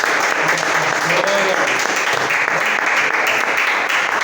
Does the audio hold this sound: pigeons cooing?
no